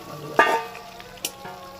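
Fried chicken pieces go into hot spiced masala in a pan, setting off a close sizzle with a couple of sharp hissing bursts as they land and get stirred.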